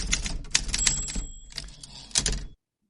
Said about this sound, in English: Paul, give us the typewriter